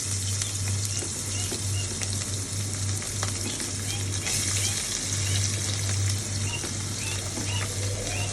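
Onions frying in a pan of oil produce a steady, dense sizzle that stays even and close for the whole stretch, with a constant low hum underneath and faint stirring.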